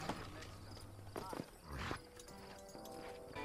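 A horse in Red Dead Redemption walks with soft clip-clopping hooves and a brief whinny, heard faintly under a voice and game background sounds.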